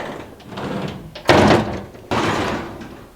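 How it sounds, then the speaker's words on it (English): A sliding pocket door on a closet in a luxury five-star hotel room in Istanbul rolls and thuds twice in quick succession, close and fairly loud, with no talking. "You notice that there's a lot of pocket doors here."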